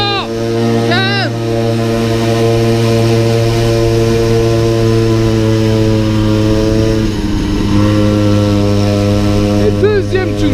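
A motorcycle on a winding mountain road revs hard, its engine whine rising and falling in pitch through repeated throttle bursts, loud and close with steady wind noise underneath.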